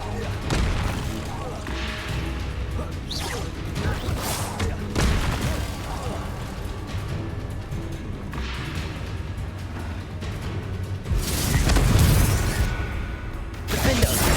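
Spell blasts from Confringo and Bombarda in Hogwarts Legacy, a run of booming impacts and crashes in a dense, loud battle, with shouted incantations and other voices over them.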